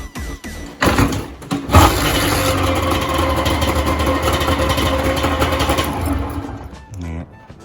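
A Kawasaki Balius motorcycle engine with newly fitted carburetors cranks over a couple of times, catches with a burst and settles into a steady, loud, close idle before cutting off near the end.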